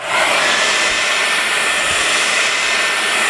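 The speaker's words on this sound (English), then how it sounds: "I just heat it up with my hairdryer for maybe 1 or 2 minutes" A handheld hair dryer blows hot air onto a chocolate refiner drum, a loud, steady whooshing roar with a faint motor whine, continuous and close with no talking.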